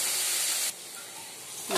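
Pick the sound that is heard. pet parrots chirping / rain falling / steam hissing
steam hissing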